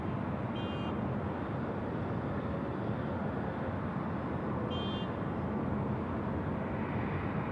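Qantas 653 jet taking off from Sydney Airport's runway 34 right at night, heard from a distance as a broad, steady engine roar, with two faint electronic beeps on top and no talking.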